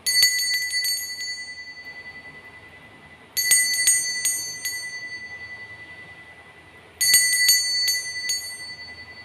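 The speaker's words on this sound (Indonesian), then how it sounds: "Kita akan memulai hasil ramalan dengan ditandai lonceng berbunyi." A small bell rings to open a tarot reading. Three separate bursts of rapid, ringing strikes each decay into a long shimmering tone, with quiet pauses between them.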